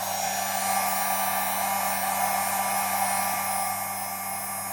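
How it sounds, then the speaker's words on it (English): A heat gun blows a steady, loud, rushing hiss with a constant motor whine while it is used on a Jeep Compass 8.4-inch screen, with no voices and no change in level. "then again a little bit heat gun"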